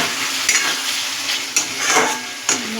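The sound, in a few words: masala gravy for soybean and egg curry frying in oil, stirred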